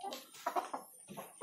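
Chickens clucking in a coop, a few soft, close, irregular clucks and murmurs in quick succession.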